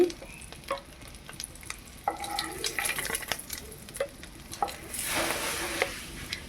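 Eggs frying in hot oil in a pan and being lifted out: irregular crackling sizzle with scraping and utensil taps, and a louder bubbling surge near the end.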